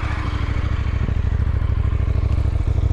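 A KTM 990 Duke motorcycle engine runs close by with a steady, loud, throbbing idle and a mechanical clatter, with no voices over it.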